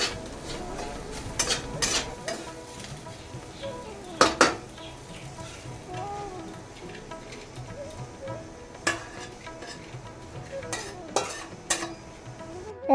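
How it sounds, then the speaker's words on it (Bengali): Teasel gourd frying in a pan in a home kitchen, a soft steady sizzle under repeated sharp metallic clinks and scrapes of a utensil stirring against the pan, close and fairly loud. "এদিকে তো আমি কাঁকরোলগুলো চাপিয়ে দিলাম, এই দিকটাতে ভাজা হবে ততক্ষণ কাঁকরোলগুলো"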